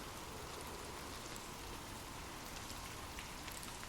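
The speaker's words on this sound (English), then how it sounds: "Imagine gentle raindrops falling softly on leaves" Soft, steady rain falls on leaves in a continuous, even patter with no breaks, faint and diffuse, with no voices or other sounds over it.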